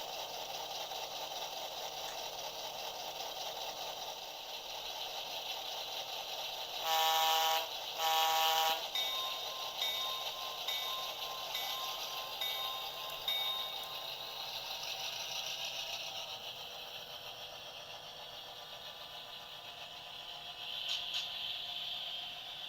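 A Walthers Proto GP7 model locomotive's sound system plays a steady, faint diesel engine drone with venting hiss, broken by two short horn blasts and a brief later toot.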